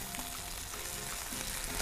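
Chicken breast, a lean cut being turned from side to side, frying in a pan for a diet Caesar salad, giving a steady, close, even sizzle with faint scraping throughout.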